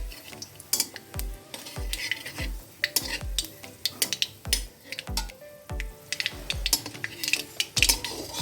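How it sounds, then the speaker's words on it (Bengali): Whole spices, a bay leaf and panch phoron, fry in hot oil with dried red chillies while a utensil stirs the pan, giving repeated sharp scraping clicks over a steady close sizzle, with no talking. "একটা তেজপাতা দিয়ে দিচ্ছি, আর কিছুটা পাঁচফোড়ন"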